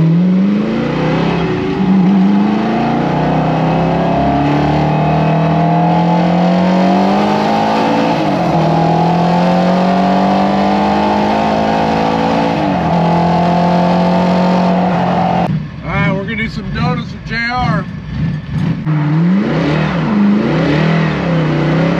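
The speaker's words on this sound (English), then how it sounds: "This is a supercharged ZR1." A supercharged Corvette ZR1 race car engine roars loud and close, its pitch repeatedly rising and dropping through gear changes, then giving way to sharper, choppier bursts near the end.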